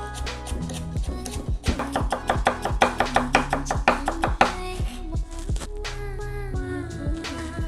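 Knife julienning stacked cucumber slices on a cutting board, a fast run of crisp, evenly spaced chops close by, slowing into a few scattered taps toward the end.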